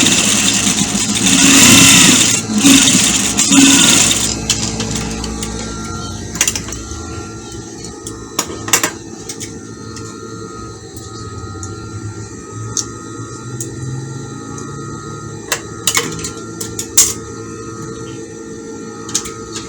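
A sewing machine top-stitches a hair bonnet made of African fabric with purple thread, running in a loud, steady whir for about four seconds before dropping to a quieter hum broken by scattered clicks.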